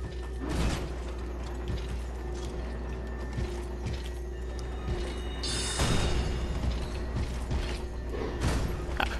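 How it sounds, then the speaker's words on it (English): Dark Souls 3 elevator being hauled up in the Consumed King's Garden, a steady mechanical creaking and ratcheting of gears with a low hum underneath, growing louder partway through and running without speech. "I gotta pull the elevator up first."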